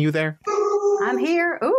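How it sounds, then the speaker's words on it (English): A dog gives a drawn-out, howling whine close to the microphone during a phone-style conversation, its tonal wavering voice overlapping people talking briefly. "That was my dog."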